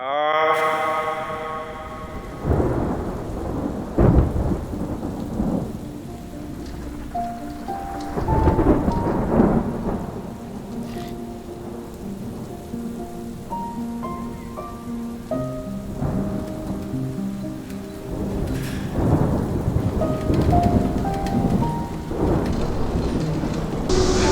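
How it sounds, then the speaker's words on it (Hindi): Heavy rain pours steadily on Mt. Seceda while thunder rolls and booms several times, with soft melodic music layered over the storm. "बारिश शुरू हो गई है।"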